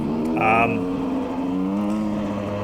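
Engine revving hard at full throttle during a first cross-country race, a continuous loud droning tone with shifting pitch, a brief sharper whine near the start, no talk over it.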